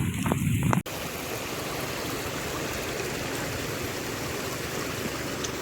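After a brief burst of other noise, rainwater rushes along a road in a constant, close gushing stream, dense and unbroken for several seconds without speech.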